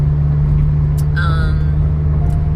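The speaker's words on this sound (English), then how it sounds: "I sure hope the humming of this car does not really affect the quality of this recording" Steady low engine hum and road rumble from a car's cabin while driving, continuous throughout with a strong low drone and a few faint higher noises, no talking.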